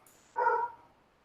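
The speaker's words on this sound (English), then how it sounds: "There's my dog chiming in." A single short, fairly close bark from a pet dog indoors, alone against a quiet room.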